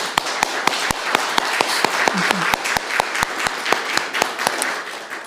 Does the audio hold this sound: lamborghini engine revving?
no